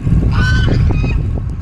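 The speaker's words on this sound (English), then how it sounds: "Geese in the road." Geese honk loudly and close by on a road along the Mae Hong Son Loop, a brief overlapping cluster of nasal calls over heavy low wind rumble.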